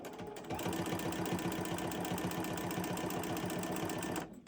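Sewing machine running a steady quilting pass across a cotton T-shirt quilt, its rapid even needle rhythm loud and close and continuous for about four seconds before it stops.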